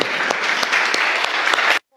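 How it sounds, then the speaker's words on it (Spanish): Congregation applause during a church sermon, a loud steady burst of many hands clapping for under two seconds before it cuts off abruptly. "Dale un aplauso fuerte a Dios por eso."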